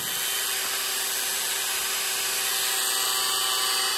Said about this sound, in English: Then I'm going to take a barrel Dremel and make it nice and round